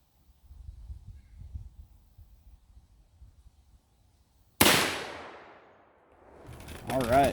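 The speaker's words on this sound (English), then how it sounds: "We'll shoot the first round. 240 grain Hornady XTP mag." A single 454 Casull revolver firing a 240 grain Hornady XTP magnum load goes off as one very loud, sharp blast after a quiet stretch, its report ringing out and decaying, followed by a burst of rising noise.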